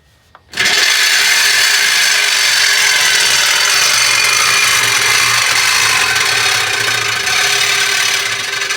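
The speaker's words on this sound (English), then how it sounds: "I'm going to use a Sawzall" A Sawzall reciprocating saw fitted with a 14 TPI blade cuts through a muffler pipe, loud and close, with a harsh buzzing rasp that starts abruptly and runs without a break.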